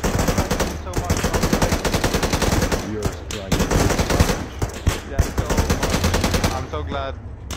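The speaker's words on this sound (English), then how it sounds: "we're taking fire" Sustained automatic gunfire from the Arma 3 military video game, set in Takistan, rattles loudly and almost continuously as rapid bursts overlap close by, with brief lulls near the end.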